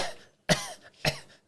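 Two sharp, separate coughs about half a second apart, close and fairly loud, with quiet between them and no speech.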